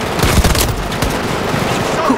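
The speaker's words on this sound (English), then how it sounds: "That was a tank." Tank firing in the Battlefield 2042 video game, with loud, dense gunfire and booming blasts in quick succession up close, settling into a rumbling battle din as players talk over it.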